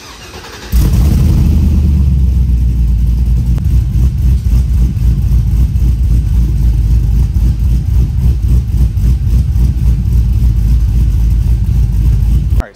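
A cammed Chevrolet Trailblazer SS fires up and then idles with a deep, loud, lumpy rumble that pulses steadily in an uneven rhythm for the rest of the clip, close to the listener.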